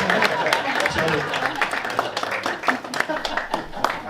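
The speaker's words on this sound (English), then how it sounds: "Miss Karen Real, ladies and gentlemen, a round of applause." At a book launch presentation, the audience claps in sharp, crisp, overlapping applause for several seconds. Voices and talk carry on beneath the clapping.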